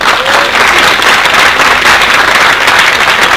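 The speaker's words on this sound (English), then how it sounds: "Give me a round of applause." Loud, close round of applause from an audience at a leadership training event, thick continuous clapping filling the whole stretch without speech.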